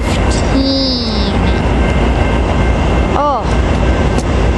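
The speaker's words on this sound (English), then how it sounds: "here comes a Green Line Trolley" A San Diego Green Line Trolley rolls past in a steady loud rumble of wheels and track, with a squeal of metal near the start and another screech toward the end.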